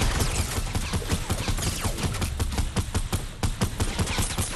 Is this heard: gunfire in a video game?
yes